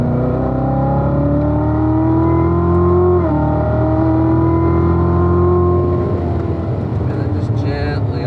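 A Corvette on the Spring Mountain racetrack downshifting to fourth and braking gently: a steady, loud engine drone heard from inside the car, its pitch rising then sliding down slightly, with a person talking over it.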